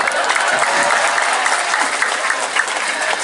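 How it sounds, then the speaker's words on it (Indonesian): Sustained applause from an audience at a school graduation send-off ceremony, steady and full throughout, with no voices rising above the clapping. "kasih tepuk tangan"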